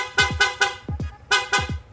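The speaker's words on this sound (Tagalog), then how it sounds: "Tapos sa loud horn, doon na po mag-activate yung horn passing" A loud aftermarket horn on a Suzuki Sniper 155 motorcycle blasts in quick repeated bursts, a rapid series of sharp honks close by.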